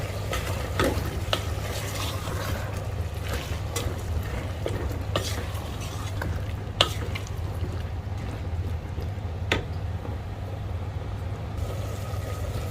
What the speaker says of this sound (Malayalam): എന്നിട്ട് എല്ലാം കൂടി ഇളക്കി യോജിപ്പിച്ച് കൊടുക്കുകയാണ്.